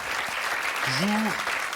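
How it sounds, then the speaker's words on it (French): Steady applause from an audience fills the clip, with a brief voiced sound rising over it midway. "C'est Gaston Lagaffe, je crois qu'on peut l'applaudir."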